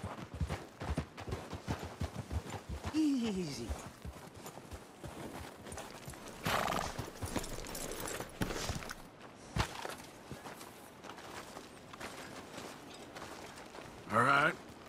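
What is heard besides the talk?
horses walking and neighing in the video game Red Dead Redemption 2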